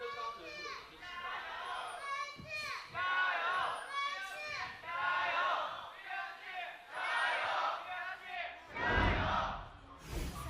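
Arena crowd cheering during game 2 of a League of Legends LPL Spring 2018 match between BLG and Vici Gaming: dense, sustained massed voices and chanting filling the hall, swelling in waves, with a loud surge near the end.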